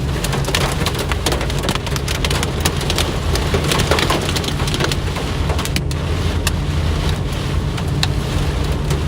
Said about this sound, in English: We're in this hail core here.